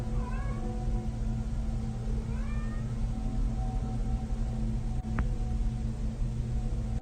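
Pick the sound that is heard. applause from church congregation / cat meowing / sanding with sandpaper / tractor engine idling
cat meowing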